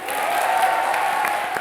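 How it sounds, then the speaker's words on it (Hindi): Studio audience applause on a Hindi TV comedy show set, a dense, steady wash of clapping held at an even level throughout the short stretch, with no voices rising above it. "जोरदार तालियां"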